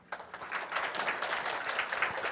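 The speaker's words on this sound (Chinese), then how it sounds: "那我们掌声鼓励一下" Audience applause at a HITCON CMT 2017 security conference session, a moderate steady patter of many hands clapping at medium distance for a couple of seconds.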